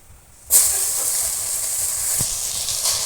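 Radish greens tipped alone into a hot, dry wok burst into a loud, sudden hiss that holds steady and close with no talking, a faint tap sounding partway through.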